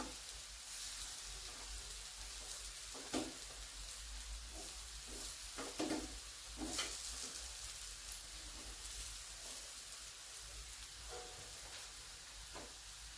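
Kothimbir vadi, coriander fritters coated with sesame seeds, fry in oil in a pan and are turned one by one. A steady soft sizzle runs throughout, with a few brief scrapes and pops.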